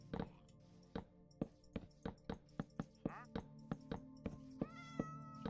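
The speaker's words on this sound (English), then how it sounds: "Cat." Repeated cat meows, a dozen or so short, evenly spaced calls ringing out over a steady tonal music bed, fairly close and clear, with one longer drawn-out meow near the end.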